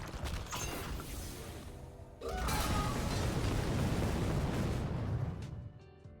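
Bombs explode in the card game Hearthstone: a sudden loud burst of rumbling blasts and crackling debris that sustains for a few seconds before cutting off, following quieter game sounds.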